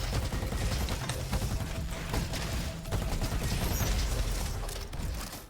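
Sustained automatic AK rifle fire in the robot shooter game RoboQuest, a loud, dense stream of rapid shots with mechanical clatter running nearly unbroken throughout.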